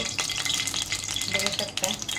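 Two ladles of oil heating in a hot kadhai (wok) for a home-cooked dish. It gives a steady, close sizzle with soft scraping and stirring clicks throughout, and nobody speaks.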